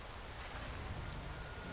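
Rain falls steadily in a cow-themed video game mod, an even, continuous hiss of dense droplets at low volume, with no voices.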